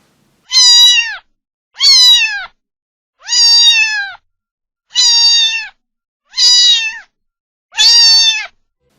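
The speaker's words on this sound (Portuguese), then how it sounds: "O miado do gato tem um som agudo." A cat meows six times in a slow, even series, each cry high and drawn-out with short silences between, close and clear.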